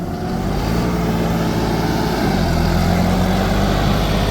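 A John Deere 5305 tractor engine runs steadily in gear, a loud continuous diesel drone with a low throbbing rumble, close by and alone with no speech.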